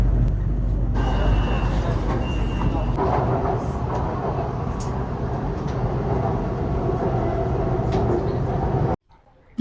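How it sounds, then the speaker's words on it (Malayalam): Bangkok metro train pulling into an elevated station, a steady loud rumble and rolling hum filling the platform, with crowd murmur underneath, before the sound cuts off abruptly near the end. "അപ്പൊ ട്രെയിൻ വന്നു, ഇനി തിരക്കായിരിക്കും കേട്ടോ."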